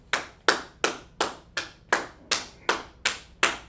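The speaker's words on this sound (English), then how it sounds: "Let's clap it up for" Audience clapping in a slow, even rhythm, about nine sharp claps that ring out clearly with no talk.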